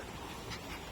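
A small dog, a six-year-old female, pants briefly and softly on a nature walk, a short close breathy burst with no talk over it.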